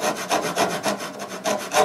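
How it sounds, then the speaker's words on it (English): A hand saw cuts a kerf into a wooden board, giving loud, close rasping strokes in a steady back-and-forth rhythm, about eight strokes with no talking. "start cutting this a kerf."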